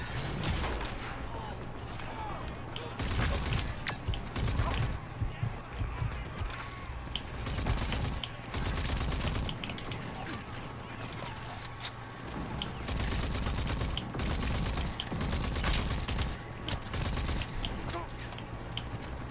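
Gunfire in the video game Rage 2: dense, sustained bursts of automatic fire and heavy shots roll on almost without pause, loud and close, with brief lulls between volleys.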